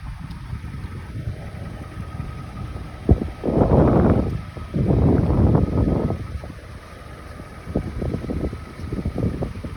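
A 2003 Honda CR-V EX with all-wheel drive runs at a car lot in Arlington, Texas. Its low, steady idle is mixed with wind rumble, and two louder swells rise midway.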